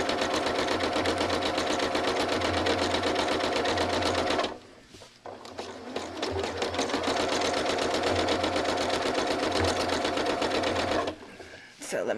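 A sewing machine stitches a quilt block in steady, loud, fast mechanical whirring and clatter, stopping briefly in the middle and once more near the end, with no talk over it.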